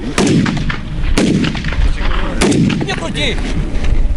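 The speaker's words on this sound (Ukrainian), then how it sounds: "Навчаються стріляти з усієї наявної підрозділі зброї" Three loud gunshots ring out at steady intervals of about a second during military shooting training, with voices talking faintly between and after the shots.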